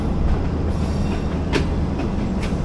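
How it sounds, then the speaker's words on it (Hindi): The Tezgam AC sleeper train pulls away from Lala Musa Junction toward Lahore, heard from inside as a loud, steady rolling rumble with faint clickety-clack and occasional metallic squeaks, with no talk. "अब हमारी ट्रेन जो है वो रवां दवां है लाहौर की तरफ।"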